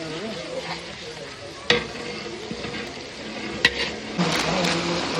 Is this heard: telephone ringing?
no